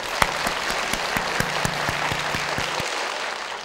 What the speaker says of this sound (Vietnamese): mọi người sẽ dành một tràng vỗ tay để thể hiện tinh thần đó